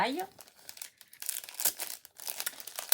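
Paper is crumpled and handled during a card-crafting session with stamps and dies: crisp, irregular crinkles and rustles come in quick bursts, close and fairly soft, with someone talking over them.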